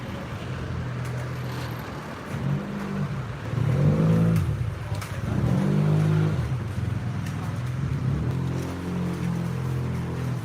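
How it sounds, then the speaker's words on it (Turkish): A car approaches along a road outside a Kaufland supermarket, its engine note rising and swelling twice as it draws near, with some background talk. "Araba geliyor şu an araba bekliyoruz."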